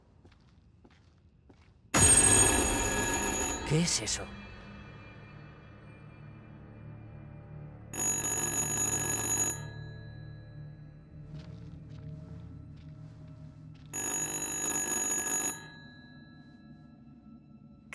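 A telephone rings inside the horror video game Little Hope, in three clear bursts spaced about six seconds apart over a low ambient drone, with a brief spoken question near the first ring.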